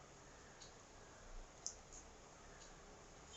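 A single quiet computer mouse click sounds in a near-silent room, with a few fainter ticks around it and no talk.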